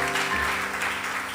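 Applause from a worship-service congregation, a short dense burst of clapping over sustained musical tones in the background.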